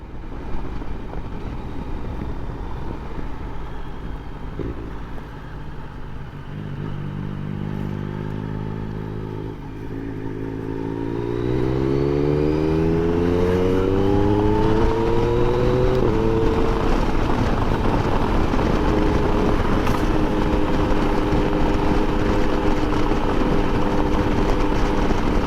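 Yamaha Tracer 9 GT motorcycle on a test ride, its engine climbing in pitch through two strong accelerations before settling into a loud, steady drone, with no talking.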